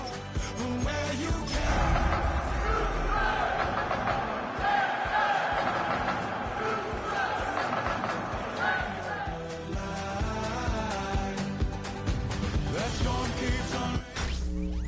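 A stadium crowd in an EA Sports football game roars and cheers steadily under loud broadcast music and a commentator's voice, with a dense, continuous wash of noise.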